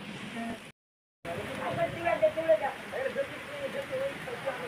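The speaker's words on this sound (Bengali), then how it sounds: "বৃষ্টি এসে গেল।" Rain falls outside as an even, broad hiss that continues before and after a brief dropout, while a voice sounds faintly over the patter.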